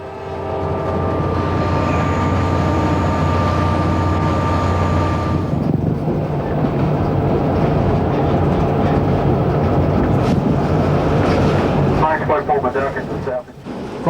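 Train running along a scenic railroad line over high bridges and through deep cuts, heard from the head end as a steady loud rumble of wheels and engine, with a sustained tone early that drops away midway.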